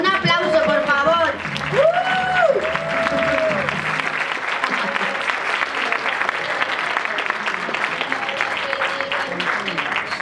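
An audience at a women's council event applauds an honoree, continuous crowd clapping that runs for several seconds, joined early by voices talking and a brief chuckle before the clapping settles alone.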